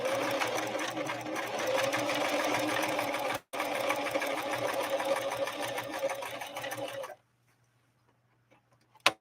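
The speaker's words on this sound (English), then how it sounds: "Okay, so let's lay down a blind hem now." Husqvarna Model 145 sewing machine running a blind hem through stiffened 100% cotton, a steady close mechanical whir with a brief break, then stopping into near silence and a final click.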